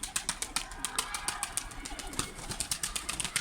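A pigeon takes off and flies, its wings flapping in a fast, rapid series of close claps that carry on for a few seconds, with no voices heard.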